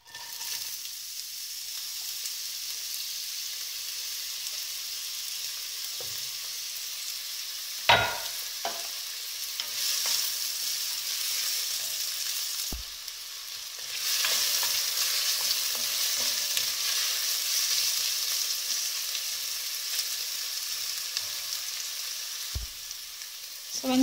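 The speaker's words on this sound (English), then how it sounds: "Go ahead and add in the onions." Chopped onions frying in hot cooking oil, a steady close sizzle that continues throughout with occasional scraping stirs and clanks of a utensil against the pan.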